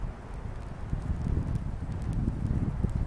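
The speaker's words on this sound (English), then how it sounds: "The wind's coming in now." Outdoor wind blowing steadily during a string versus boil fire test, a broad low rumble and buffeting that builds slightly over the few seconds, with possible fire crackle mixed in and no talk.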